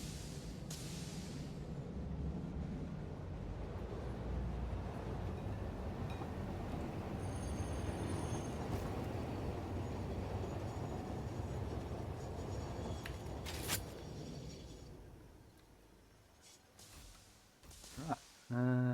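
Steady rumbling roll of a train with two engines on the front in Satisfactory, sustained for most of the stretch at moderate loudness, fading out near the end with a few clanks.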